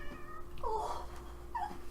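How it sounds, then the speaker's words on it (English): A cat lets out two close meows, a longer drawn one followed by a shorter one, over a quiet room with a faint steady hum. "oh, this cat"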